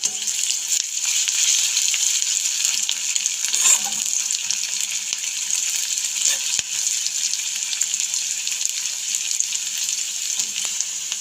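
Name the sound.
onions frying in a pan until golden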